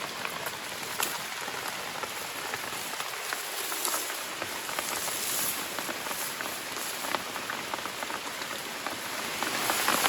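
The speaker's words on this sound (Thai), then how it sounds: "อาฝนตกดิ" Steady rain patters densely on a hard surface, an even hiss of drops that holds for the whole stretch.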